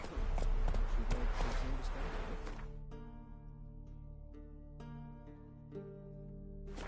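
Roach the horse gallops in The Witcher 3, with rhythmic hoofbeats that start loud and dense and then thin into a steadier, quieter clip-clop over music.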